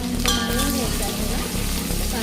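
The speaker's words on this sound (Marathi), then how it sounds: "तेल छान आपलं गरम झालेलं आहे. तर त्याच्यामध्ये मी कांदा टाकते." Chopped onion dropped into hot oil for a Kolhapuri misal sizzles and crackles loudly and continuously, with a sharper burst just after it hits the pan.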